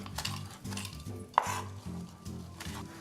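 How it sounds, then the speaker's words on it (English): A chef's knife roughly chopping a pile of fresh basil leaves on a cutting board, giving soft repeated knocks in an uneven rhythm with one sharper clink partway through, close and quiet with no talk. "So we'll roughly chop the basil"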